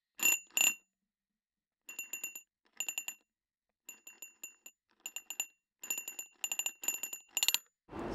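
Small bell struck and picked up through a Korg CM-300 contact microphone, ringing in about ten bright bursts of quick repeated strikes separated by short silences, close and clear with no room ambience.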